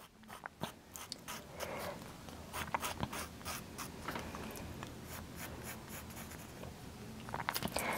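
A pencil draws lines on paper, making a quiet, close scratching and rubbing with short bursts of strokes throughout and slightly louder marks near the end, with no speech.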